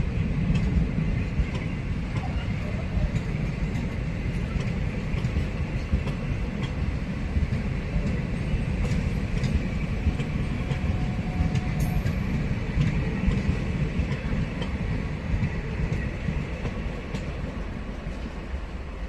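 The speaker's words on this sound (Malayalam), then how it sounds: "നമ്മുടെ ട്രെയിൻ എങ്ങനെ അപ്പം പുക്യാരവാരി റെയിൽവേ സ്റ്റേഷനിൽ ഇപ്പോൾ ഇതാ വീണ്ടും പുറപ്പെട്ടിരിക്കുകയാണ്" A DEMU train pulls out of a single-line railway station between Salem and Vriddhachalam, its steady rumble and rolling wheel noise continuous and fairly loud throughout, with faint clicks over the track.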